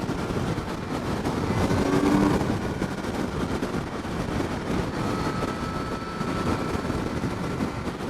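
Engine of a 2022 Kawasaki Z900 50th Anniversary Edition motorcycle while riding, a continuous close mid-level drone blended with wind rush, holding fairly steady with slight swells and no talking.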